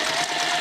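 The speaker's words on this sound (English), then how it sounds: "I like to double stitch these corners a little bit just so they remain really tight and" Sewing machine running steadily while double-stitching the corners of a bag, a continuous close motor whir and needle hum with no pauses.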